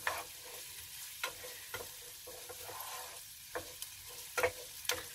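Onions and garlic fry gently in olive oil with a quiet, steady sizzle, punctuated by soft scraping stirs of a spoon in the pan.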